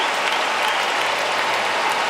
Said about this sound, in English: listen to how the crowd's reacting to it.